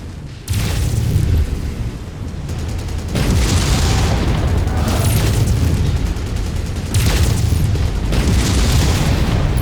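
A tank is destroyed in MechWarrior 5 in heavy repeated explosions, loud booming blasts and rumbling bursts arriving in several waves, close and alone.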